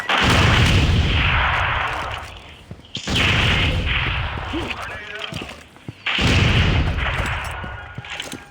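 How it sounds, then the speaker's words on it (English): Grenade blasts in the video game Critical Strike, three loud booming explosions about three seconds apart, each with a long rumbling tail, under a player's voice. "Grenade out."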